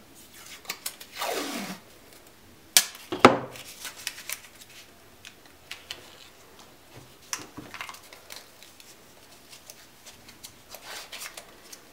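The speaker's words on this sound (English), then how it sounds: "So you take your blue tape, put it along the slide." Blue painter's tape pulled and pressed along the slide of a Kydex holster mold, giving a few short tearing rips and crinkly rubbing sounds, close and quiet, with gaps between them.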